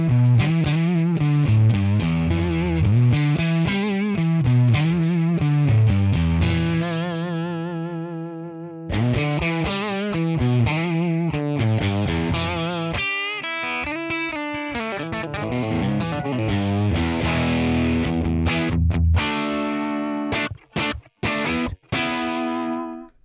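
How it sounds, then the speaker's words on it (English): A Stratocaster electric guitar plays through a crunch amp tone model, single-coil hum beneath it, with a riff of chords and single notes, distorted and slightly chorused, ending in choppy staccato stabs. "Let's at first hear how the Strat sounds."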